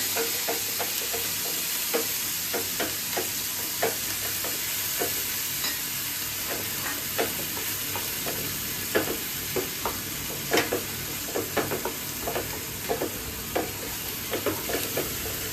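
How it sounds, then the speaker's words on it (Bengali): Onion paste stir-fried in a pan for Bengali potol korma, with a steady oily sizzle and frequent sharp spatula scrapes and taps throughout. "পেঁয়াজের কাঁচা গন্ধটা যাওয়া পর্যন্ত কষাতে থাকবো"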